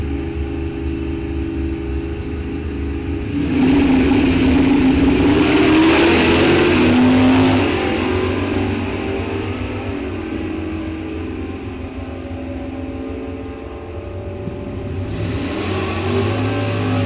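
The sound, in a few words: drag racing car engine revving at raceway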